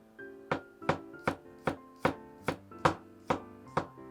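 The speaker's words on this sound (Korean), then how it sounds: "마늘은 다지셔도 되고 얇게 편으로 쓰셔도 돼요" A knife chops garlic on a cutting board in a home kitchen, with about nine sharp, evenly spaced knocks in a steady rhythm, close and clear with no talk.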